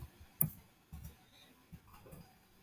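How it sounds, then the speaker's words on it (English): A few quiet computer keyboard keystrokes during an HTML coding session, sparse and irregular clicks with one sharper tap near the start. "sorry about the keyboard noise"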